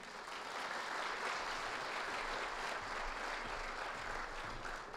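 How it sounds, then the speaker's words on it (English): An audience at a Women's Hall of Fame induction ceremony gives a final round of applause, a dense, even roar of clapping that swells quickly and holds steady before tapering at the end. "Please join me in a final round of applause"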